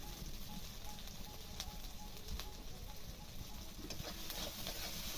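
Mustard paste and chili powder are stirred in a pan, giving a steady soft sizzle and scraping with a few sharp clicks of the utensil. The sound is continuous and moderately faint, and nobody speaks.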